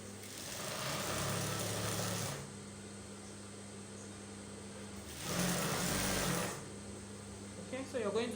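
A sewing machine stitching a seam on a shift dress runs in two steady whirring bursts of a couple of seconds each, separated by a quieter pause, with a brief voice near the end.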